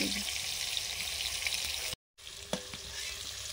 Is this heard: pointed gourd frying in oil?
yes